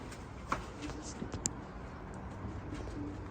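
Soft pigeon coos sound faintly against a low background murmur, with a few light clicks and flutters scattered through.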